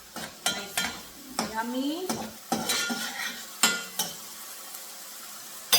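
Rice and beans base for arroz con habichuelas sizzles in a pan, with a spoon clanking and scraping against the pot in repeated sharp strokes while someone speaks briefly in between.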